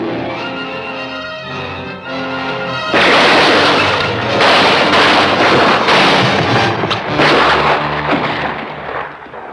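Gunshots crack and boom in a western shootout at a corral, a loud run of heavy blasts breaking over an orchestral score and echoing for several seconds.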